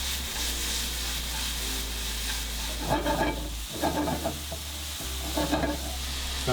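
Peppers, shallots and chanterelle mushrooms sizzle in a hot pan, a steady frying hiss broken by bursts of stirring and scraping, close and alone without talk.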